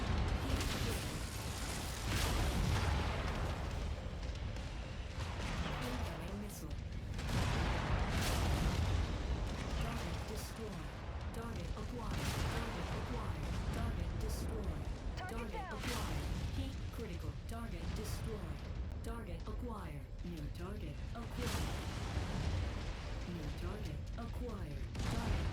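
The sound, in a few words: PPC weapon fire and explosions in MechWarrior 5 video game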